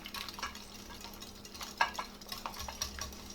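Eggs with green onion and salt being stirred in a bowl, a soft scraping swirl with a few light clinks of utensil against the dish, close and quiet, with no voices.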